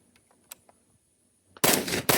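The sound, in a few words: Galil ACE 5.56 rifle shots with flash hider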